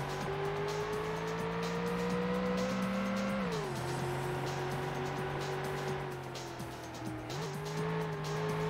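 A Ford Taurus race car in the Ford Racing video game drives with a loud, steady engine drone that shifts pitch as it changes gear, with tires squealing under it throughout.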